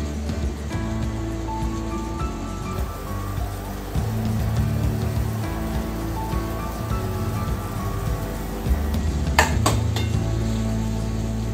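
A spoon stirs potatoes and paneer curry in a pan, giving soft scraping and sizzling with intermittent clinks of utensil on metal. The sound is continuous and close, with no talking.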